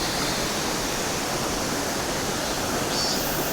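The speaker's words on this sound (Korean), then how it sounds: "이렇게 시원한 계곡이 흐르네요." A cool mountain valley stream flowing on a hike up Cheonggyesan, a dense, steady rushing wash of water, close and continuous with no voices.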